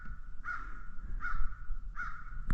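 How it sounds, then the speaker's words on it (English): Crows in a West Virginia state forest give three loud, evenly spaced caws, with a faint rustle of quiet background between calls. "Can't trust crows, can you?"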